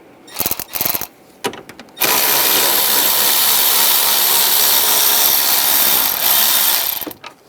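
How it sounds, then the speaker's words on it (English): A power ratchet or impact tool with a 13 mm socket spins out the side bolts of the coolant fan assembly on a 2011-2018 Ram 1500, close and loud, a long continuous whir after a few short bursts. "We're going to take these bolts out on the sides of the coolant fan assembly. Use a 13 millimeter socket."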